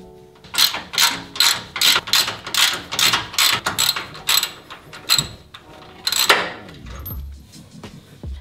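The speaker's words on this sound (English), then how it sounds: "But again, removing these bolts so we can move the sway bar." A hand ratchet loosens 15 mm sway bar bolts on a Toyota Tacoma, giving a close, rapid run of rhythmic clicking strokes in about a dozen bursts, then a brief metallic rattle.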